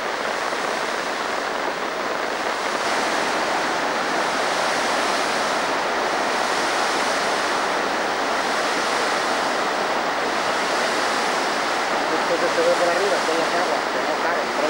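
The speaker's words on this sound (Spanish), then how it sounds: "está sacando una enorme cantidad de agua, pero el camino está cortándolo" A flooded river near Cocentaina and Beniarrés rushes with a huge volume of water, a loud, continuous roar of broadband noise with wind buffeting, steady for the whole stretch.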